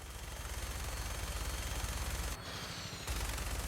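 Rapid, sustained minigun fire from a vertibird in Fallout 4, a dense continuous mechanical rattle that briefly cuts out and then resumes, loud and close with no talk over it.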